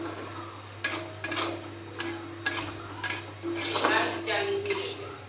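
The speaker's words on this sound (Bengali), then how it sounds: "মুগ ডালটাকে ভালো করে ভেজে নিতে হবে" Mung dal being dry-fried in a pan, dominated by a spoon scraping and knocking against the metal in irregular strokes, close up, with a faint steady hum beneath.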